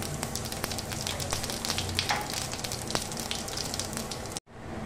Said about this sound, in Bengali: আমি এবার ওই মাছ সাঁতলানো তেলের মধ্যে দিয়ে দিচ্ছি জিরা ফোড়নে